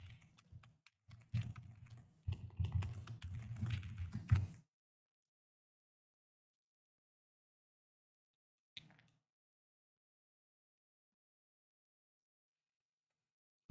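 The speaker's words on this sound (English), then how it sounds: "Let me type it up." Rapid keystrokes on a computer keyboard fill the first four and a half seconds in close, uneven bursts. Silence follows, broken only by one faint click near the end.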